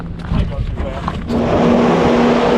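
A truck engine idles with a low steady hum, then grows louder and rougher partway through, with a person talking over it at first.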